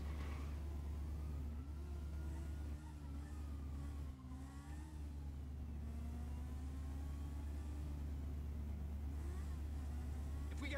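A car engine revs and accelerates during a police chase in Grand Theft Auto V, a steady droning rumble under constant game noise and talk.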